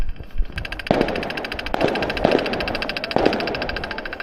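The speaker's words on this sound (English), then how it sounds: "You guys see the fireworks?" Fireworks popping outdoors on a cold afternoon bike ride: about four sharp, distant-sounding bangs spaced irregularly over a steady background rumble.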